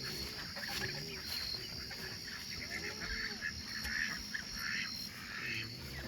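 Chickens cluck and honk in a backyard pepper garden, a busy, continuous chatter of several birds heard at moderate distance over a faint background hiss.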